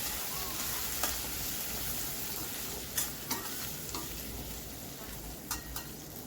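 Guar beans are stirred into spice masala frying in a pan: a continuous soft sizzle with several sharp scraping clicks of a spoon against the pan at irregular intervals.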